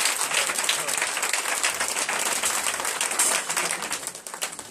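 A church congregation at a Sunday worship service applauds and cheers for Jesus in dense, sustained clapping with crowd voices mixed in.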